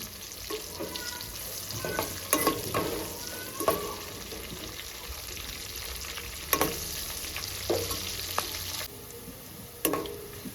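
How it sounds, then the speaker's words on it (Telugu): Curry leaves, dried red chillies and mustard-seed tempering fry in hot oil in a pan for a stuffed brinjal curry, giving a steady crackling sizzle with sharp spatula scrapes and clinks at intervals. "తాలింపు బాగా ఫ్రై అయింది"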